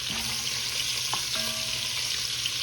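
Small pieces of leftover prime rib searing in a hot pan, a dense, even sizzle with a couple of light utensil clinks, close and unaccompanied by speech.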